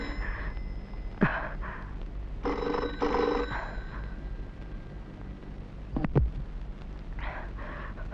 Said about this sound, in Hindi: टेलीफोन बजने दो।